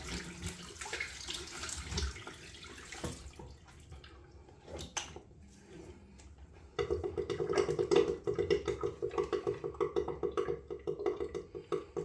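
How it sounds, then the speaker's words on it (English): A bathroom tap runs during a Bay Rum wet shave as a face is rinsed, water hissing faintly at first, then scattered splashes, then a louder rhythmic splashing of cupped water near the sink. "Rinse the face"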